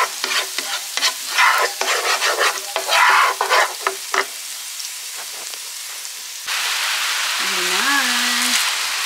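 Ground turkey browns in a pan with onions for tacos, with busy stirring scrapes over a rain-like sizzle that settles into a steady hiss, and a brief vocal sound near the end.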